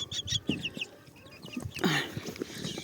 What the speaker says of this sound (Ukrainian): Он півень, он півень.